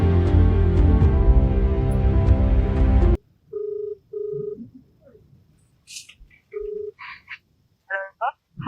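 A telephone rings in short repeated electronic bursts, fairly faint, after a loud stretch of music that cuts off abruptly.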